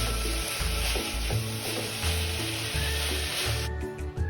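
Coconut filling sweetened with palm sugar, salted and thickened with cornstarch, is stir-fried in a pan over raised heat; a close, continuous sizzle with scraping stirring strokes, alone without talk, fading out at the end.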